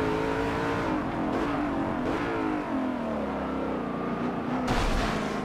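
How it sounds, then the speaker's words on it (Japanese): Car in Forza Motorsport 7 spinning its wheels in second gear, a loud sustained engine roar with wavering pitch and tire noise, continuous and close throughout. "ものすごいホイールスピンします。"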